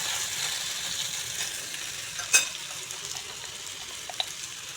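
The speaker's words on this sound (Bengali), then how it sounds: "গ্যাসের ফ্লেমটাকে কমিয়ে খুব সুন্দর করে এগুলোকে অনেকক্ষণ ভাজতে হবে" Mustard greens and pumpkin leaves frying in a pan over a low gas flame, a soft steady sizzle with a few light clinks and one brief louder scrape partway through.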